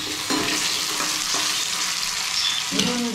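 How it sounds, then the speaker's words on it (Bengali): Potatoes frying in a pan with salt, a steady close sizzle that runs throughout with a few brief stirring bumps and no talk. "আলুটাকে আমি একটু সেদ্ধ ভাজা মতন করে নেব।"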